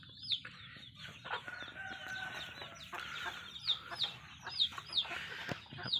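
Hens clucking and cackling in a series of short, fairly close calls, with rustling farmyard background between them.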